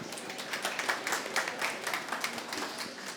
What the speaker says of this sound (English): So round of applause for Alice.